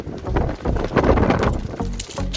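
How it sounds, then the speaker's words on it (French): Gusty wind buffeting the microphone on the seafront at Dieppe, a continuous loud roar with low rumbling bursts that rise and fall for a couple of seconds. "vous allez entendre du vent"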